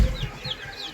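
Chickens cluck softly in a backyard homestead pen, a few short, faint calls scattered across a low, quiet background.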